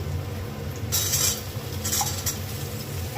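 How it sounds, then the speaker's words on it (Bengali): Onion and potatoes being stirred as they fry in a pan: a spatula scrapes and clinks against the metal in short bursts over a soft background hiss. "পেঁয়াজটা একটু হালকা হাতে নাড়াচাড়া করে নিতে হবে তারপর দিয়ে দেবো আলু"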